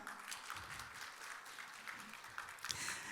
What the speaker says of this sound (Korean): 서로 환영하는 개념에서 서로에게 박수 한번 할까요?